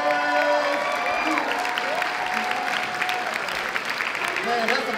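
A convention crowd applauds dancers after a dance battle finale, the clapping a dense, continuous patter under raised voices and cheering.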